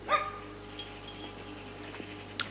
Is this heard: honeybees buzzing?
no